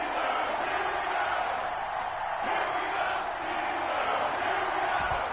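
A large NFL stadium crowd at Heinz Field roars steadily before a Steelers–Jets game, a dense wall of cheering and shouting that holds at full volume throughout, with scattered whoops rising above the din.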